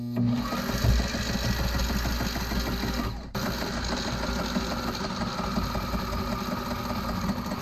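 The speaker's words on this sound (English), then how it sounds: "sewing a box panel now on the edge in order to enclose the mattress" A sewing machine stitching the edge of a mattress box panel aboard a sailboat, running steadily up close with a continuous mechanical whir and rapid needle rhythm, briefly pausing once before resuming.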